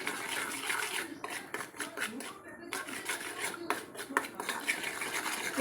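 Butter paneer masala being stirred with chili powder in a pan, a steady scraping and stirring texture with soft clinks, continuous and close throughout.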